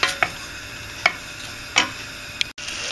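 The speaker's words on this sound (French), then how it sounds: "je vais laisser fondre tout en mélangeant un petit peu comme ceci" A spoon stirs melting butter in a saucepan, making four sharp scraping clicks spaced about a second apart over a quiet background, close by with no talk.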